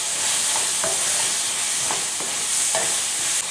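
Chopped eggplant sautés in hot oil for a brinjal and pea thokku, a steady close sizzle broken by about three scraping stirs of a spoon against the pan.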